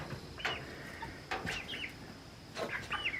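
Sharp calls from roosters ring out three times at even spacing, with short chirpy cackles from hens in between over a steady low background hum.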